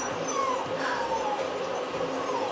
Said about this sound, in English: my dogs are all over the place right now.